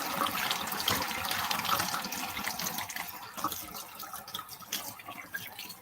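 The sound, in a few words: kitchen tap water washing a peeled vegetable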